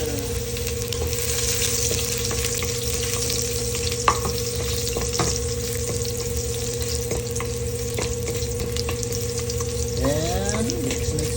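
Ginger sizzles in hot oil for a sautéed scallop and sea snail dish, a steady close frying hiss with a few sharp pops and a brief scrape of stirring near the end.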